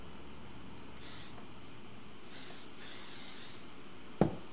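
Several short hissing bursts of hairspray from an aerosol can, spaced apart over a low background hum, followed by a brief clunk.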